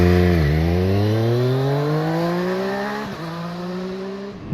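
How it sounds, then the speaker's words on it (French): A 2021 Triumph Street Triple 765 RS with its three-cylinder engine and stock exhaust revs hard, its pitch climbing steadily over several seconds, dipping at a gear change and then climbing again, loud and close with no talking. "faire hurler son 3 cylindres"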